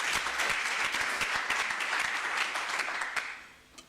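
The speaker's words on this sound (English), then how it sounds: "Another round of applause for Professor Godi" Audience at a university research and innovation week gives a professor a round of applause, dense clapping that holds steady for a few seconds before tapering off to a few last claps.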